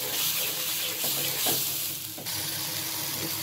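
Chili and turmeric powder, a spoonful each, fry in oil as a spoon stirs them: a loud, steady sizzle with soft scraping strokes running through it, with no voices.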